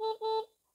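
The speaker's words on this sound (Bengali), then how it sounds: "হর্ন আছে যে" Two short electronic horn beeps from an electric motorcycle, a quick double toot, close and clear, then silence.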